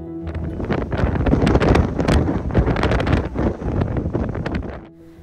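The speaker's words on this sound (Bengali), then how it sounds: "দেখতেই পাচ্ছ সমুদ্রের ধারে কি হাওয়া বইছে" Strong seaside wind on Phillip Island buffets the microphone in loud, gusty rumbling bursts that swell and ease for several seconds before dying away.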